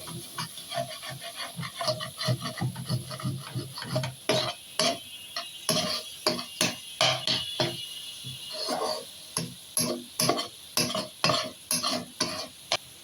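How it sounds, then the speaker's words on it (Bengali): Vegetables for fried rice frying slowly in a pan, a steady close sizzle broken by a dense run of sharp scraping stirs that fall into a regular beat near the end. "এই সময় সবজিগুলা আস্তে আস্তে ভাজতে হবে"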